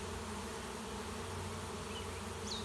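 A honey bee swarm buzzes near the hives, late in the season, a steady dense hum held at an even level throughout with no voices.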